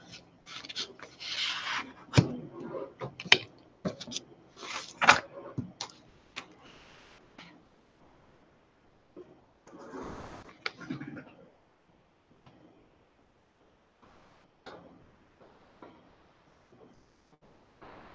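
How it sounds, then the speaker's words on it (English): Intermittent scraping and rasping in bursts, somewhat muffled and distant, a shovel dragged over a sidewalk outside, with quieter stretches between strokes. "You hear the shovel scraping the sidewalk."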